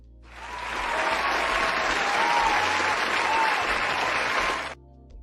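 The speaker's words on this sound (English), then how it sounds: "Let me clap for Sean Okinbaloye on Channels TV" Sustained applause from a studio audience on a Nigerian television talk panel, steady dense clapping building quickly, holding for about four seconds and then stopping abruptly, with no talking over it.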